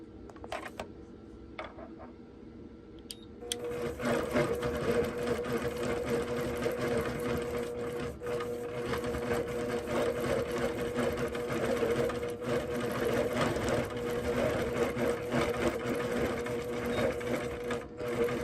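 A sewing machine free-motion quilting with a Quilt Glide, starting after a few light clicks and then running steadily and loudly at a fast, even stitching pace.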